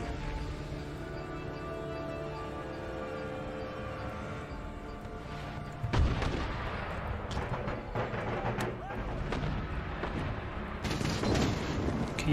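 Artillery fire in an Empire: Total War battle, a steady droning battlefield bed that erupts midway into a dense run of thuds and crackling volleys, continuing at moderate loudness.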